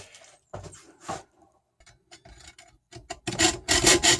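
Hacksaw cutting metal for a sailboat tiller clutch, a few tentative rasping strokes at first, then faster, louder back-and-forth sawing strokes close by.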